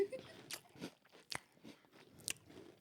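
Someone bites and chews crab legs close to the microphone, making a few sharp crunches among softer chewing sounds in an otherwise quiet room.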